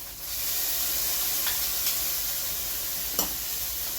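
Garlic sizzles steadily in a hot frying pan for chicken puttanesca, a continuous bright hiss with a few small pops and one sharper crackle near the end, close and alone with no talking.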